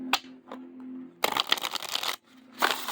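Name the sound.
shuffling a purple card deck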